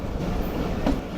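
The Karakoram Express rolls around a curve on a bridge, giving a steady, close rumble of rail noise with a slight swell near the end.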